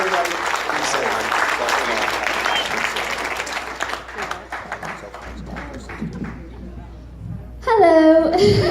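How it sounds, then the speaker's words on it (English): A wedding crowd gives a full round of applause that is loud and dense at first, then thins into scattered claps. A voice speaks briefly near the end. "give a round of applause to everybody up here"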